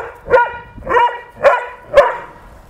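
A Newfoundland dog barks four times in a steady rhythm, loud and close, each bark deep and full with a short tail, separated by brief pauses.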